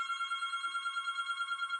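A telephone rings with a bright, warbling electronic trill that pulses rapidly and evenly, sounding continuously at moderate loudness with no talking over it.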